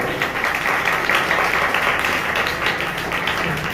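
A church congregation claps during a fasting prayer service, a dense, continuous wash of many hands applauding together in a reverberant hall, loud and steady throughout.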